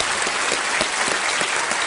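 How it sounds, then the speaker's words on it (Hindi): A studio audience on the game show Kaun Banega Crorepati claps loudly for a contestant, steady dense applause filling the short moment without a break. "एक बार जोरदार तालियां हो जाए अभिजीत जी के लिए।"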